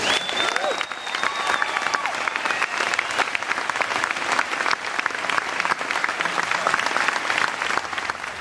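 An audience at a live science event with Dr. Brian Greene gives loud, sustained applause, dense clapping filling the whole stretch with some crowd noise and faint voices mixed in.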